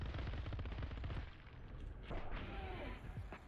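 A rapid burst of Uzi fire in El Paso, Elsewhere, a dense stream of close shots for about a second, then scattered quieter shots and impacts under a steady game soundtrack.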